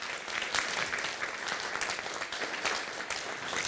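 A conference audience at a closing ceremony claps steadily, a dense wash of many hands from a large room, continuous and fairly loud throughout with no voices standing out.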